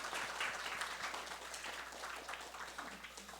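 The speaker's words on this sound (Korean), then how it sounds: "우리 하나님께 영광의 박수를 다시 한번 돌려드립시다." Church congregation applauding during a Sunday worship service, a steady wash of many hands clapping at moderate, somewhat distant level that holds throughout with no talk over it.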